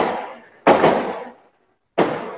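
Firecrackers go off outside in three loud, sharp bursts, each cracking suddenly and then decaying into a rumbling tail, with a short silence before the last one.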